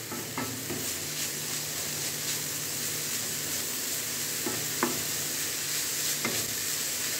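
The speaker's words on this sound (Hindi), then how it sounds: "तो फिर अच्छे से गाजर फ्राई हो जाएगा" Carrots frying in a pan for chocolate kheer give a steady, soft sizzle throughout, with a few faint clinks of stirring near the middle and end and no talking.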